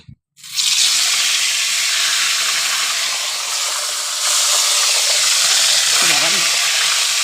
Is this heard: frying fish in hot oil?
yes